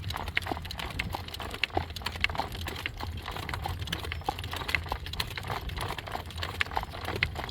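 A horse's hooves clip-clop steadily on a hard road, a continuous run of close, even hoof strikes with no talk over them.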